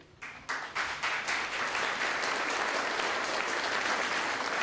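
At a university economics graduation ceremony, applause starts with a few scattered claps and quickly swells into dense, sustained clapping from a large audience.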